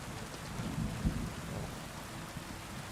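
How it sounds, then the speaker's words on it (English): Steady, dense rain pours in the video game Kingdom Come Deliverance II, with a low thunder rumble rising briefly beneath the downpour and no voices. "just hours out in the driving rain."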